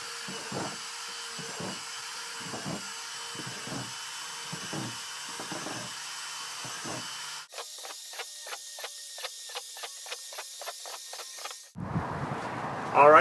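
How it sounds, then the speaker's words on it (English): Power drill boring holes into a plastic compost bin tumbler, a series of short repeated drilling bursts in a steady rhythm, then a faster run of quick bursts, fairly close and alone without talk. "So I'm just going to get my drill here, and I'm just going to start drilling away"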